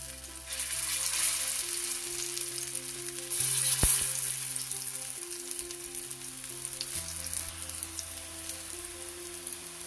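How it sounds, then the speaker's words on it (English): Zucchini fritters shallow frying in hot oil, a steady close crackling sizzle that continues for about ten seconds with a soft background hum and one brief sharp click midway, no talking. "You need to fry these on both the sides till they become golden brown and crispy"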